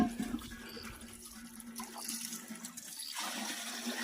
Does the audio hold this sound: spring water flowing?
yes